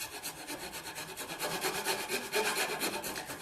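A wooden cigar box guitar neck heel is shaped by hand, producing a continuous close scraping and rasping in quick repeated strokes, steady and fairly loud throughout with no voices.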